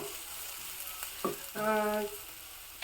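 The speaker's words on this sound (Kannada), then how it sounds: "ಸಣ್ಣದಾಗಿ ಹೆಚ್ಚಿಟ್ಕೊಂಡಿರೋ ಒಂದು ಕಾಲು ಕೆ ಜಿ ಆಗೋಷ್ಟು ಬೆಂಡೆಕಾಯಿನ ಹಾಕ್ತಾ ಇದ್ದೀನಿ" About a quarter kilo of finely chopped okra going into a pan of frying onions for a Mangalore-style dish, with a soft, steady sizzle and a brief louder surge and clatter midway.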